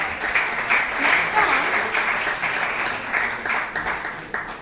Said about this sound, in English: so an applause for Victor